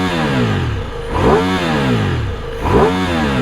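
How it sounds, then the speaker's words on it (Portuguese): A 2024 Ducati Multistrada V4 Rally with its original exhaust revs twice from a rumbling idle. Each rev is a loud, close, rising roar that drops back to the steady burble, with no talk. "E se liga só o ronco dessa moto com seu escapamento original"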